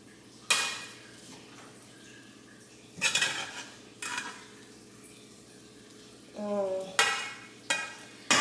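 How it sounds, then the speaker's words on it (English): A spoon stirring a pot of rice on the stove makes sharp metallic scrapes and clanks in irregular bursts, close and fairly quiet, with a low hum underneath and no talking. "And now I'm just about to stir my pot."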